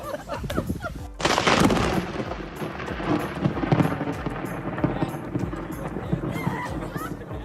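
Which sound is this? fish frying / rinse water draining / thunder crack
thunder crack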